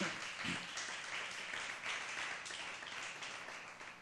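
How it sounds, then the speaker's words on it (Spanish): A congregation at a church service applauds, a soft, fairly distant patter of many hands clapping continuously at a low, even level. "Damos un aplauso al Espíritu ahí."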